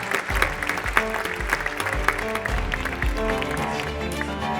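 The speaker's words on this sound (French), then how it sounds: "Bravo, on les applaudit." An audience at a regional craft awards ceremony applauding winners from a forge workshop; dense, sustained clapping mixed with music or tonal background and busy room noise, fairly distant and even throughout.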